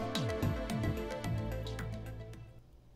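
Melodic electronic music with a steady bassline and layered synth tones plays continuously, with no voices over it.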